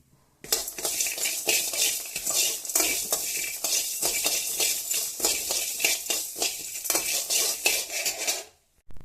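Ingredients stirred and dry-roasted in a frying pan for capsicum rice, a steady run of close metal scraping and clinking from a spoon against the pan, with a faint sizzle underneath, continuous for most of the stretch.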